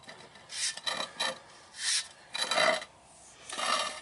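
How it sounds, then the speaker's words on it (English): The spline shaft of a two-piece driveshaft on a 2008-2014 Ford F-150, dry and stiff, slid in and out by hand, giving repeated short rasping metal scrapes in an uneven rhythm, close and moderately loud. "we're going to slide this spline shaft backwards. And it's going in and out, but it's really stiff."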